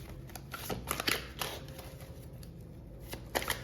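Tarot cards are shuffled and drawn by hand in a quiet room, giving soft, faint riffling and several light snaps and flicks of card stock.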